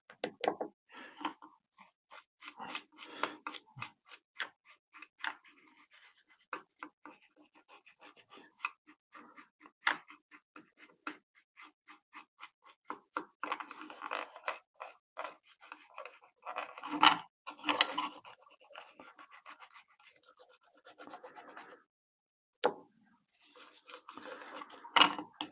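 A toothbrush soaked in nail polish remover scrubs a small ultrasonic alarm with rapid, raspy back-and-forth strokes, close and quiet, coming in bursts with brief pauses.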